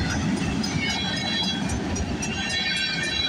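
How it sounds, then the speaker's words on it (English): A long freight train, with flat cars among its consist, rolls past at a street crossing, a steady broad rumble and rattle of wheels and cars continuing loud and close without a break. "That's a long-ass train there."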